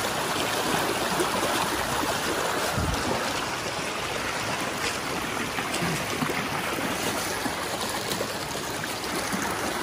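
Steady rushing and splashing of shallow flowing river water in Perth, Western Australia, close and continuous, with occasional heavier sloshes from steps wading through the stream in shoes.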